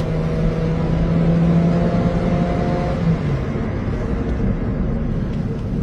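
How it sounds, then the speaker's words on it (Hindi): Honda Civic with an open roof accelerating on a road, a steady loud engine drone and road rumble with a tone that rises briefly and then settles. "ये इन्होंने गाड़ी की स्पीड तेज कर ली है"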